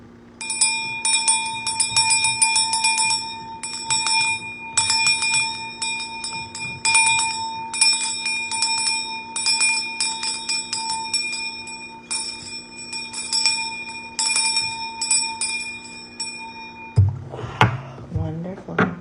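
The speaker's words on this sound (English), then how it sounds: "We start with a cleansing with my mother Oshun's bell." A small hand bell of the orisha Oshun is rung for a ritual cleansing, shaken in rapid, bright bursts with long ringing overtones for many seconds, close and fairly loud, ending with a brief shuffle and speech.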